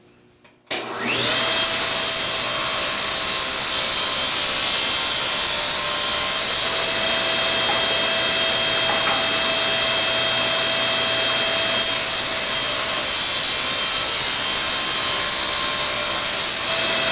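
A TS2000 saw blade starts up and cuts through pre-finished birch, a loud, steady whining roar that holds for the whole stretch, close by and with no voices over it.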